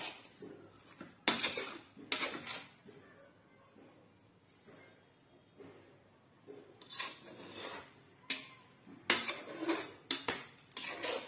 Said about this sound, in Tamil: நல்லா கிண்டி விட்டுக்கோங்க